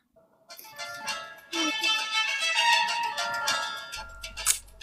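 A mobile phone rings with a bright electronic tone that repeats over several seconds, heard close, with some faint background rumble near the end.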